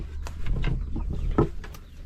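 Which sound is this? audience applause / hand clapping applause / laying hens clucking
laying hens clucking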